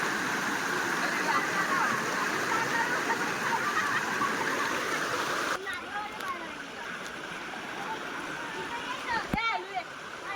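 Water pouring at Khoste Tansa waterfall makes a steady broadband rush. It stays loud for the first half, then drops to a lighter flow, with a few brief knocks and faint movement near the end.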